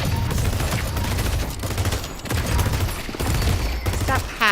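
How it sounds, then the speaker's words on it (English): A pulse grenade blast amid dense, continuous gunfire and combat effects in the hero shooter Deadlock, loud and layered throughout with a sharper burst near the end. "Pulse grenade."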